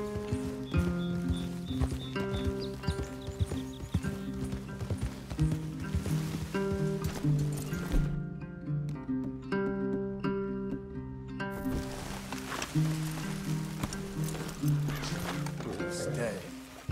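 Horse hooves clip-clop at a steady pace under swelling orchestral music, with voices talking over it, in the video game Red Dead Redemption 2.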